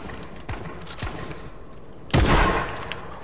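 Gunfire in a Fortnite fight: a few scattered distant pops, then a heavy close burst of shots that rumbles and fades over the next second.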